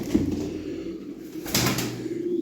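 Pigeons, both smoky and white birds, coo softly at close range in a short burst over a low steady background.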